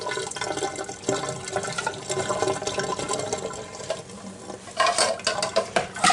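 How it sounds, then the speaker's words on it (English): Hot water is poured out of a pan of boiled eggs, splashing and gurgling into a sink with uneven bursts and a louder rush near the end. "And so we're going to pour out the hot water."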